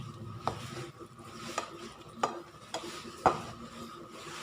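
A spoon stirs a prawn roast paste in a pan with several distinct scraping knocks at irregular intervals over a soft background sizzle.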